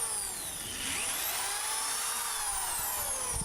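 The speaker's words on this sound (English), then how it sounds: "I then laid the 8-foot 2x4s in position and pre-drilled and countersunk holes every foot or so" A power drill pre-drilling and countersinking holes in 8-foot 2x4 boards for a wooden raised garden bed, a continuous whining motor with shifting pitch as the bit bites, steady and fairly close.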